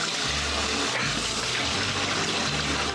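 Tap water runs continuously into a sink or bath while a child's face is washed, a close, steady splashing hiss with faint shifts in flow.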